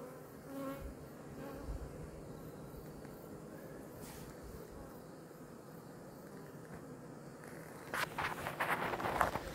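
Hornets swarm around a beehive syrup feeder that burst during mowing, filling the air with a constant close buzz. Louder passes and a few rustling knocks come toward the end.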